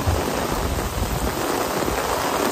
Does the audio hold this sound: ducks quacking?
no